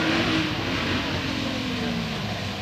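A BMW drift car engine revs and howls during a drift competition at Ada Huja, heard at a distance as a sustained, rising-and-falling mid-pitched drone over broad crowd and wind noise.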